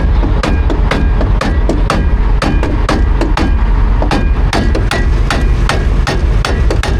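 Rapid, loud hammer strikes ring out one after another in a steady irregular rhythm, metallic and close, over constant heavy background noise.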